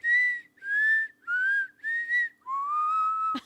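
A person whistles several clear, sliding notes in short phrases, drawn in on the breath, ending with a brief click.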